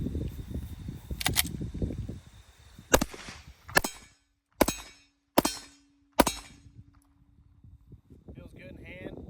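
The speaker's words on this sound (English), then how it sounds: "I have the MR920 by Shadow Systems. I'm going to put a few down range" Five sharp shots from a Shadow Systems MR920 Glock-style pistol, fired at a range at a slow, steady pace, each a loud crack with a short ringing tail, set between stretches of quiet and low background noise.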